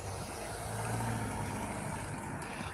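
Steady, fairly faint engine noise of cars on a street, a continuous low rumble like vehicles passing or idling nearby, with no talk over it.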